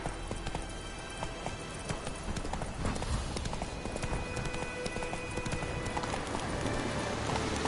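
A horse gallops in a PS4 video game, its hooves clip-clopping in a fast continuous rhythm over music and ambient game sounds, with no one talking.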